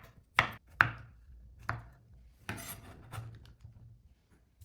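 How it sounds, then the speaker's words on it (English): Knife chopping straw mushrooms into small pieces on a cutting board: a few sharp, close chops followed by softer cuts and scraping, in a quiet kitchen. "For the straw mushrooms, just cut them up into small pieces."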